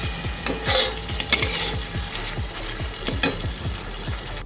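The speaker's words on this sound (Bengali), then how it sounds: "এই মশলাটা যে কষা হচ্ছে, এর মধ্যে আমি একটু ঘি গরম মশলা এখনই অ্যাড করে দিয়েছি" Spice masala with garam masala sautés in ghee, a loud continuous sizzle with rhythmic scraping strokes of a spatula pushing the paste around the pan.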